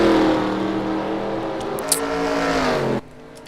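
V8 Supercar race cars from a racing game, circuit race at Ipswich, Queensland: a loud, steady, high-revving engine drone with shifting pitch, a brief tick near the middle, and an abrupt cutoff to near silence.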